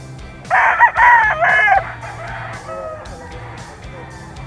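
A rooster at a poultry sale in Grotto, Bulacan gives one loud, close crow lasting about a second and a half, followed by faint background noise and low hum.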